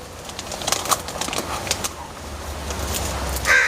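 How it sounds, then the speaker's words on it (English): Outdoor birds call in short bursts, with pigeon- or dove-like coos among brief chirps over a low steady rumble of background noise, fairly close and moderately loud, with no talking. "Listening to birds is healthy."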